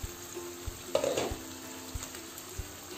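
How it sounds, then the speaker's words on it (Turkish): Meat cooking down for Turkish kavurma is stirred in a pan, with a short burst of scraping and clinking around the one-second mark over a steady low sizzle, plus a few soft knocks. No one speaks. "Şöyle bir karıştıralım."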